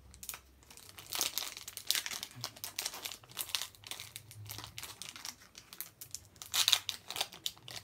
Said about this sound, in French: j'ai du mal à ouvrir les boosters